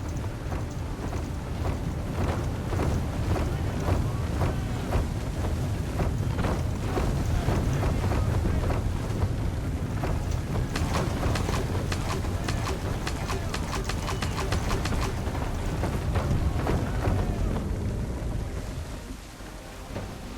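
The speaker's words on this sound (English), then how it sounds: "There's a storm coming, Captain." A storm lashes a sailing ship at sea in Assassin's Creed III, with howling wind and rough water making a loud, continuous roar broken by heavier crashes throughout.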